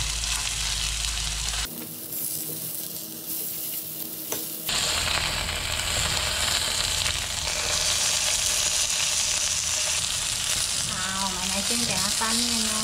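Boneless chicken leg steak, New Orleans-style marinated with skin on, frying in a pan with a steady loud sizzle, a harsher burst early on, and some faint clatter toward the end.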